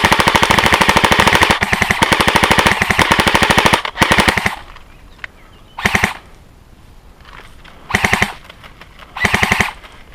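Airsoft guns fire loud, rapid full-auto bursts outdoors, one long stream of shots followed by several shorter separate volleys with quiet gaps between.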